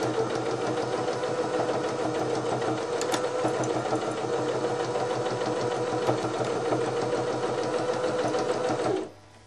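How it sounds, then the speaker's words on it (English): A sewing machine back stitching across the handles of a strip tote bag, a fast steady mechanical whirring and rattling that runs continuously for several seconds before abruptly stopping. "I'm just going to make sure that I back stitch over this a couple of times as well, to make sure that it's really securely in place."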